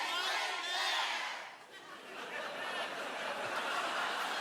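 A crowd chatters and murmurs in a continuous blended wash of voices with scattered chuckles, fairly faint, dipping briefly in the middle before rising again.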